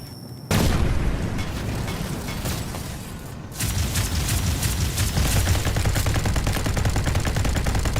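Sustained gunfire from a mech in the video game Dolls Nest, a dense rattling barrage that pauses briefly and then resumes just as hard, with no talking.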